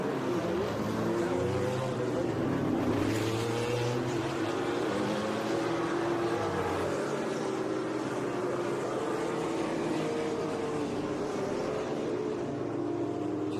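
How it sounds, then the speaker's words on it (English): Vintage race cars from the 1961 to 1966 era roar back out of the pits at Monterey's Laguna Seca circuit, a loud, continuous engine drone with shifting pitch as several cars pass close by. "that roar of the sound of these beautiful engines hits out again as our 61 to 66 head back out of the pits"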